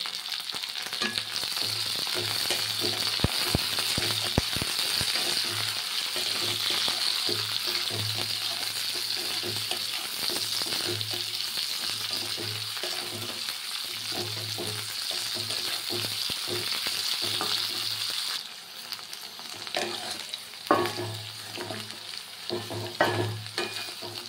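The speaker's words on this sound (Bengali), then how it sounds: "এবারে আমি ভেন্ডি যেগুলো কেটে রেখেছি এটা দিয়ে দেবো" Cut okra fries in a pan with a steady, close sizzle, accompanied by intermittent spatula scrapes and clicks and a low hum. The sizzle softens near the end while stirring sounds continue.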